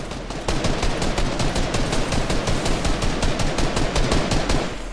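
Rapid sustained automatic fire in Fortnite OG, a loud, steady stream of evenly spaced shots rattling without pause for several seconds, close and dominant.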